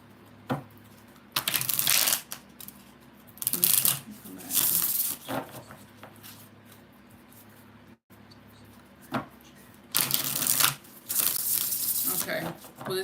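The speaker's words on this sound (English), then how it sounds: "2 more shuffles." A deck of tarot cards is shuffled in several loud bursts of riffling and flicking, separated by quieter pauses, close to the listener.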